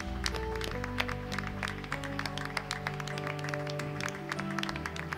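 A church congregation at a morning service claps along, crisp regular hand claps ringing out over sustained musical tones, moderately loud and steady throughout.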